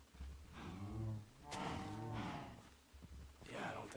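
Minecraft cows on a Better Than Wolves modded farm low repeatedly, three or four drawn-out moos overlapping one another at moderate distance with soft rustling between calls.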